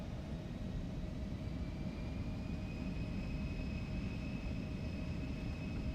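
An Embraer E190 jet in the X-Plane 12 flight simulator spooling up for takeoff, a steady loud engine roar with a thin rising whine layered over a broad rumble, no voices.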